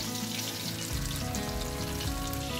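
Chicken pakoda deep-frying in oil, a dense, loud, close bubbling sizzle that holds steady throughout without any voices.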